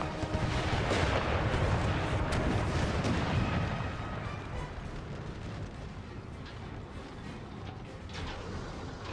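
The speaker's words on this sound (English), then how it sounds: "Under fire from the howitzers." Heavy howitzer artillery in an American Civil War battle game keeps up a dense, loud rumble of booms and blasts. It is strongest in the first few seconds, then settles into a steadier, slightly quieter roar.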